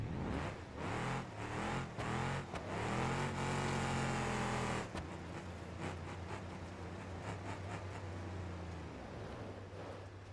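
An old GMC truck engine in BeamNG's Monster Jam stadium roars and revs in uneven bursts, loud and close, then settles into a lower steady drone.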